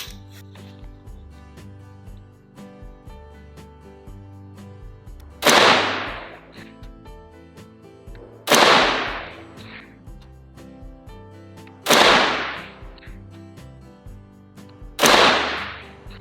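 A rifle with a 16-inch 300 Blackout barrel fires four loud, sharp gunshots, spaced roughly three seconds apart, each ringing out in a short decaying echo over a quiet background.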